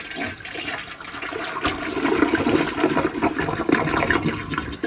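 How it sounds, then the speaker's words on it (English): A Mansfield Summit toilet with a 3-inch flush valve flushes nearby, a steady rushing swirl of water that builds and holds for several seconds. "And now we'll give this thing a flush"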